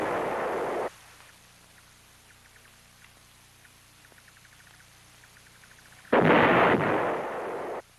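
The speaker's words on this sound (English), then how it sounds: "The North Vietnamese artillery hitting Khe San and the Marine outposts was all indirect fire." North Vietnamese artillery shelling Khe Sanh and the Marine outposts: two loud, sustained bursts of heavy shellfire roar at the start and again near the end, with a quiet stretch of faint ticking and low rumble between.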